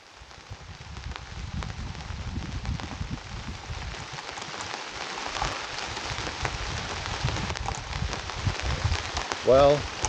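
Rain falls at a jeep campsite at night in the Green Mountains in springtime, a steady, close patter and hiss that builds slightly, with a brief vocal sound at the very end.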